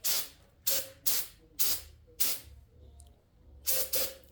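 Brake cleaner is sprayed onto a Corvette LS6 engine head in short, sharp hissing bursts, about seven close, loud sprays in an uneven rhythm with brief gaps between them.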